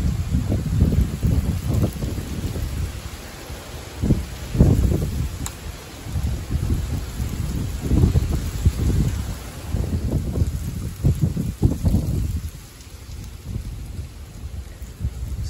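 Strong gusts of wind batter the microphone in heavy, uneven surges, rising and falling over a constant background rush.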